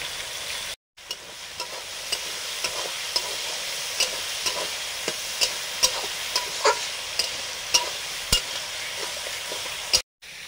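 Dried red chillies, bay leaves and chopped onion fry in hot oil with a steady sizzle, broken by repeated sharp scrapes of a spatula stirring the pan in a regular rhythm, close and fairly loud.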